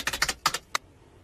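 A short, close burst of typing on a computer keyboard: a few quick clicking keystrokes, a pause, then two more and one final tap, alone without talk.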